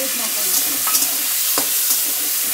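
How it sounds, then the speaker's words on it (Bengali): Prawns fry in hot oil in a wok, the oil already used for frying potatoes. The sizzle is close and continuous, with several sharp crackles and stirring scrapes rising above it. "এবার ওই তেলেই চিংড়ি মাছটা ভেজে নেব।"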